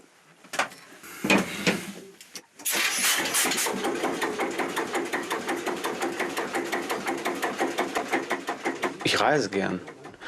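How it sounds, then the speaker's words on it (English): Danish-built three-cylinder diesel engine aboard a former fishing cutter, cranked with a few bangs then starting and settling into a loud, close, steady thumping idle with even rhythmic beats. "The 3-cylinder diesel is extremely reliable. It was made in Denmark"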